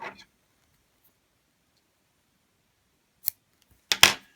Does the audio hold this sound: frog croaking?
no